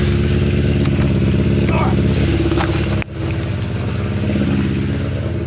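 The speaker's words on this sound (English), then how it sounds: "I've got the bike running." A Suzuki Bandit motorcycle engine runs steadily close by, a dense rumbling idle with a brief dip in level partway through before it settles back to an even, loud drone.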